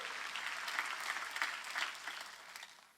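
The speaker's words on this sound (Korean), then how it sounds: "박수." A church congregation claps together during a Sunday worship service, a sustained wash of hand claps with a few rhythmic swells before it gradually fades out, moderately distant and without speech on top.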